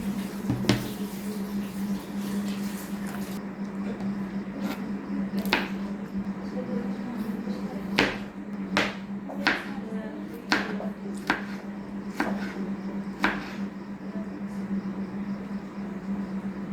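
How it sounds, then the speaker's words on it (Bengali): Knife chops through a cucumber on a cutting board, sharp crisp strikes landing at an uneven pace, about a dozen close distinct cuts over a steady low background hum. "এখন চাকু দিয়ে এভাবে শসাটা কেটে নিচ্ছি"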